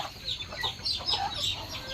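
Chickens on a small farm raising ducks and chickens cluck and chatter in short, quiet bursts at middle distance over faint background noise.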